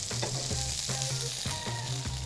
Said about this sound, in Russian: И в то время, пока у нас жарится мясо